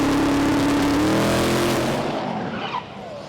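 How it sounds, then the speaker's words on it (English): A Bentley drag car launches down the strip at the Street Eliminator 2016 Festival of Power, its loud, close engine roaring with a rising tone and tyres squealing, the roar easing off slightly near the end. "Solo for the Bentley now with Stuart Williams not making a call"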